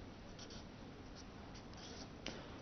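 Chalk or marker writing on a classroom board during an English grammar lesson, a steady faint scratching with short strokes and taps, quiet and close, with no talk.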